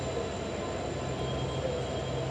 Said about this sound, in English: there is one train behind me, and then you've got an Amtrak right here